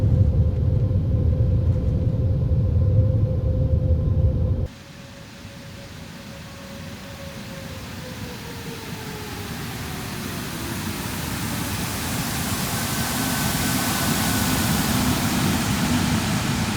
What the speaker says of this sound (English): So here we go, reverses out and you get that spray coming forwards around the engines.